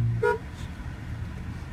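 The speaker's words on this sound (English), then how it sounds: "honk at him." A single short car horn honk sounds near the start, then a low idling vehicle rumble continues on its own with no other sounds.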